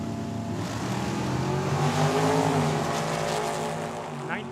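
A dragster launches off the line at a Tucson drag strip, a loud, sustained engine roar with rising harmonic sweeps that carries nearly unbroken through the whole stretch, with a faint whine entering near the end.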